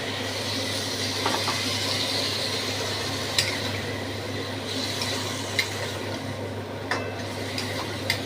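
Okra and potato curry is stirred with spices in a pan over a low, steady sizzle, with occasional sharp clinks of the spoon against the metal.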